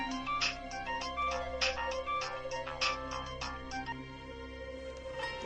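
An unanswered phone rings on and off in short repeated bursts over a steady tonal music bed, fairly loud throughout with no voices.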